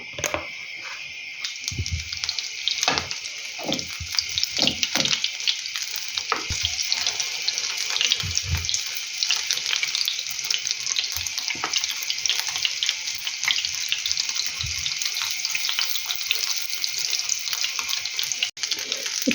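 Curd-cheese pancakes frying in a little oil in a pan, giving a steady broadband sizzle throughout with occasional low knocks and clatters of utensils and pan handling.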